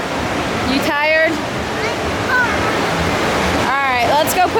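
Water in an empty indoor wave pool at closing time rushes and splashes as a steady broad wash, with brief whistly calls or squeals echoing over it.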